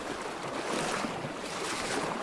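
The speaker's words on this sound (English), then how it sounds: "Wow, the water is fast." Fast-flowing river water rushes in a steady, broadband wash of close turbulence while someone wades through it fly fishing in Yosemite, with no talk.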